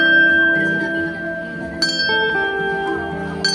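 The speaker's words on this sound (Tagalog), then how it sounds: "Anybody po na gustong mag-ring ng bell para sa inyong wishes?" A wishing bell rung by visitors on a tour, giving a bright, sustained metallic tone with a fresh strike partway through and another at the end, ringing alone at moderate loudness.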